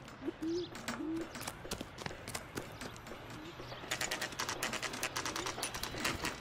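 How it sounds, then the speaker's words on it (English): Birds call in the L.A. Noire video game, short hooting tones over a busy game soundscape with dense clicking and rattling noise that grows louder toward the end. "There's a big bird over there."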